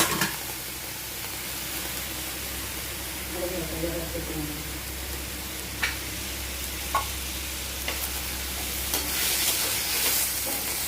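Jackfruit seeds sizzle and fry in hot oil while a utensil stirs and scrapes the pan now and then, with a low steady hum underneath.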